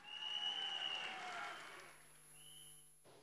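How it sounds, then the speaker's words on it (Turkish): Brief applause from a crowd at a political rally, a burst of clapping that fades quickly, with faint tonal sounds beneath. "Kendinizi de bir alkışlayın lütfen."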